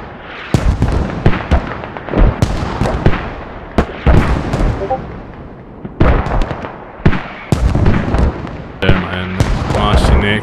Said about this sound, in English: I guess this is Team France on mortars here, because they're hitting inside.